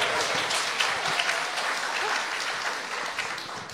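Audience applause fills a live podcast recording, dense steady clapping from a small crowd that stays fairly even before tapering slightly.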